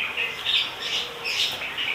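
An oriental magpie-robin (kacer), a songbird kept for singing contests, gives a run of bright, chirpy squawking calls in repeated bursts, fairly close and steady, with no talking.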